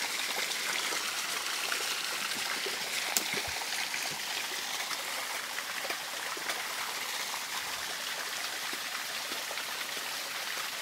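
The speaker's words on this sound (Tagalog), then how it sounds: "dito sa gibagsakan ng tubig" Water spills steadily down a small waterfall on an old creek, a constant, close, hissing rush with faint scattered drips and no break throughout.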